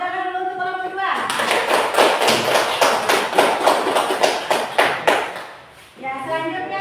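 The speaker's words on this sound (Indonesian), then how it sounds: "Ya, tepuk tangan dulu untuk kelompok 2." A classroom claps together for a student group, about a dozen sharp rhythmic claps in unison that fade out, with a voice speaking just before and after.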